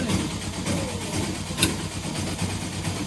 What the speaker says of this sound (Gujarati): તો રિક્ષા આવી ગઈ છે